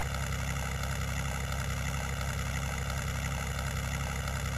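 Biplane engines idle in the Knights of the Sky game on the Amiga, a steady, loud, buzzing drone with a faint regular pulse that never changes pitch.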